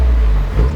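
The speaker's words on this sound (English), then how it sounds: "revving the car" A Honda S2000 fitted with a test pipe revs in a brief, loud, deep engine drone that dips slightly and swells back within under a second.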